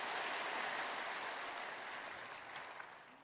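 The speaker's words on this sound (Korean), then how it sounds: "뜨거운 감사의 박수 한번 주시기를" A church congregation applauds the choir after a hymn at a Sunday service, a dense, steady wash of clapping that fills the hall and slowly thins toward the end, with no voices over it.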